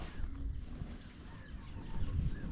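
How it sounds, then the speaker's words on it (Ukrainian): Wind gusts buffet the microphone outdoors on a rainy fishing trip. The result is a loud, rumbling low roar that swells and fades and has no clear speech. "Але погода не дає це толком зробити. Вітер, дощ"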